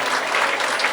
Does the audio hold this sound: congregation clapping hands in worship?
yes